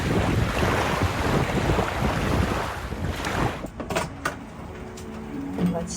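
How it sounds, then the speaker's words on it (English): Ocean waves wash onto the shore at a waterfront RV campground in Bahia Honda State Park in the Florida Keys, a steady broadband rush mixed with wind buffeting the microphone and a distant traffic hum, easing after a few seconds. "If you just kind of ignore the traffic sound and just focus on the waves,"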